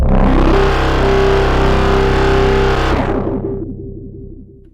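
Screaming, roaring bass synth patch built in the Vital synthesizer with sawtooth harmonics and filter distortion, a loud gritty sustained growl that cuts off near the end and decays briefly.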